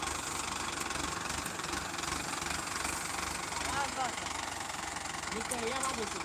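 A tractor engine labours steadily to pull a sugarcane tractor stuck in the field, a low rumbling drone with a knocking throb that holds on throughout, while voices speak faintly in the background.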